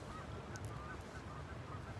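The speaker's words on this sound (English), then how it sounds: "the sound of the birds" Birds honk outdoors in a natural setting, the calls faint and distant over a steady low outdoor rumble, with a couple of brief higher cries standing out near the middle.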